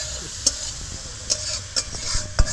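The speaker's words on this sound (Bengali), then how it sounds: "হলুদ আর লঙ্কাটা নাড়াচাড়া করে নিলাম" Turmeric and Kashmiri chili powder being stirred in hot oil for a vegetarian eggplant dish, with a steady low sizzle and a few sharp spoon scrapes against the pan at irregular intervals.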